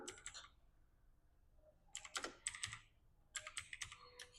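Keys clack on a computer keyboard as an SQL query is typed, quick bursts of crisp close clicks separated by short pauses, quiet and without talk.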